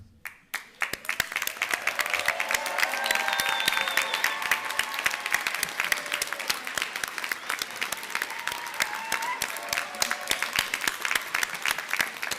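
A graduation audience applauds honor students standing at a commencement ceremony: dense, sustained clapping close and loud for over ten seconds, with a few faint voices and cheers mixed in.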